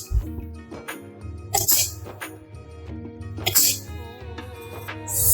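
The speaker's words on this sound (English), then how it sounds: "Sneeze." Human sneezes, several sharp explosive bursts spaced a couple of seconds apart over steady background music.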